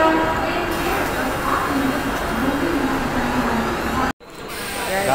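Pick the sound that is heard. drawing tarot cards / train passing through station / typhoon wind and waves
train passing through station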